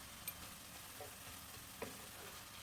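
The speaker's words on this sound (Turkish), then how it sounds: "Soğanlar ölene kadar tekrar kavuruyorum." Onions for su böreği filling fry in a pan with a faint, steady sizzle and a couple of soft stirring clicks, no voices.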